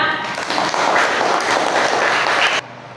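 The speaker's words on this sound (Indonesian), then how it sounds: "Masya Allah, hebat, tepuk tangan" A short burst of clapping from a group of students in a classroom, brisk and fairly close, cutting off abruptly.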